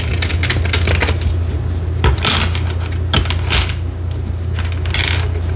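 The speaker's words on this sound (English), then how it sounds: "Okay, two more shuffles." Tarot cards being shuffled by hand, a close series of crisp riffling and slapping card sounds in quick bursts over a steady low hum, with no talking.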